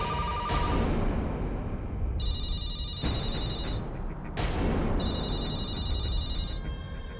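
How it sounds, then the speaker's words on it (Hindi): An old telephone rings in loud repeated bursts with short pauses between them, heard alone and close by, in a Hindi horror radio drama. "ये तो उस आत्मा का ही फोन लगता है।"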